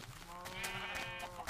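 A Minecraft sheep gives one wavering, nasal bleat, fairly close and clear, lasting about a second against a soft background.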